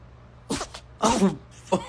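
Three quick sneezes from an animal, sharp and close, the second the loudest, each separated by a short pause.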